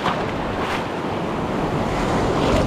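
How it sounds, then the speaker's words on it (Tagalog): Ocean waves rush in a continuous loud roar mixed with wind buffeting the microphone, with no voices. "Grabe namang alon to."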